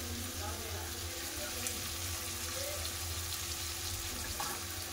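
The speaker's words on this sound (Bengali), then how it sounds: "একটু জল দিয়ে, শুকনো মশলা না লেগে যাবে নিচ্ছি।" Spices sizzle and fry in a pan as water is added to keep the dry ground coriander, cumin, turmeric and chilli from sticking, a steady close hiss with faint stirring.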